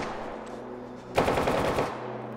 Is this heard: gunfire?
yes